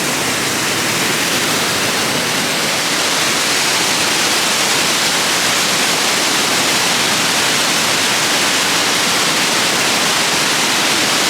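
A steady, loud roar of a 23.5-meter waterfall pouring from a cave in a North Macedonian forest fills the whole clip as a dense, unbroken rush of noise.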